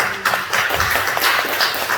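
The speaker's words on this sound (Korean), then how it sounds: "하나님께 영광의 박수" A church congregation claps together in applause during a sermon. Dense, steady clapping from many hands fills the space evenly, with no clear break.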